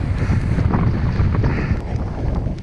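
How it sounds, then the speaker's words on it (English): Cold winter headwind roaring across a bike rider's microphone on a Lincolnshire country road, a loud, continuous buffeting rush dominated by low rumble, with no voices. "This headwind heading home is actually quite difficult."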